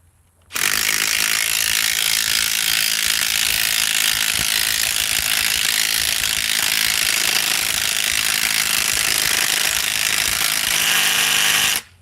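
Atomic 921 half-inch drive socket ratchet, a loud, close, continuous rapid clicking that runs unbroken for about eleven seconds before stopping abruptly.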